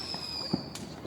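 Fireworks go off at a distance outdoors, a muffled thump followed by a faint crackle over a steady high whine of background noise.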